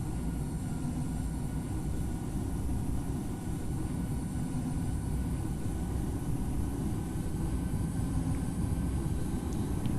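Twin engines of a Boeing 737-700 at takeoff power in the Infinite Flight game give a steady, even roar with a constant rushing hiss throughout.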